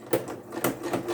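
A sewing machine stitches a quarter-inch seam in short quiet bursts, a few soft rhythmic whirring pulses with brief gaps between them.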